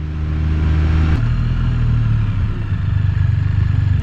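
Can-Am Spyder F3-T three-wheeled motorcycle engine while riding, a steady loud engine drone with a brief shift break early on, then a slightly deeper hum continuing to the end.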